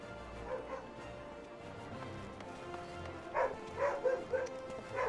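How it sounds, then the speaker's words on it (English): A dog barks in the distance, a few faint yips clustered near the end over a quiet, murky room background. "Dog's barking."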